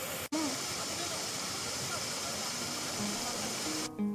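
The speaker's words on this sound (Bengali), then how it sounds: "এখানে ঝর্ণার পানির শব্দ অনেক ছিল" Mayabi waterfall at Jaflong in Sylhet, a constant broadband rush of falling water, loud and close, with a brief interruption near the start and faint voices underneath.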